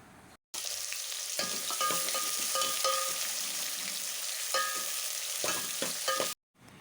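Onions and chopped sour tomatoes frying in a pan for chicken curry, a steady broad sizzle running throughout with scattered stirring clinks and scrapes, close and fairly loud, no voices.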